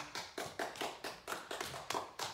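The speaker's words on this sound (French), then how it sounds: "On peut l'applaudir bien fort." Several people clap slowly and unevenly in a small group, about nine distinct claps in a loose rhythm, close to the listener and moderately loud, with no voices over them.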